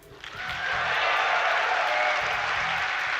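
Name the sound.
crowd cheering at a StarCraft tournament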